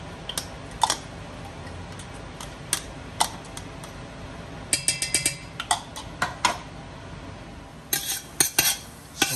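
Garlic is stirred in hot oil in a pot, heard as scattered metallic clinks and scrapes of a utensil against the pot over a faint background hiss.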